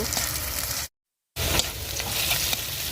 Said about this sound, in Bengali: ভাজি করার জন্য পেঁয়াজ রসুন মরিচগুলাও দিয়ে দিছি সেটা একটু ভালোভাবে ভাজা ভাজা করে